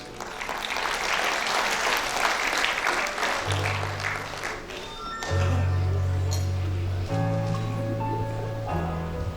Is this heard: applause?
yes